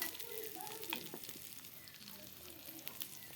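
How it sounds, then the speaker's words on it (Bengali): Potatoes fry in a pan with a faint, soft sizzle and scattered light clicks and scrapes of stirring, quiet and close with no talk over it. "এবার আলুটা ভাজবো, একটু আলুটা ভাজবো।"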